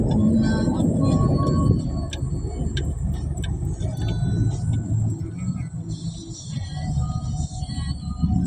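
Road traffic in Kawit, Cavite: cars pass continuously with a steady rumble close by, the loudest stretch early on.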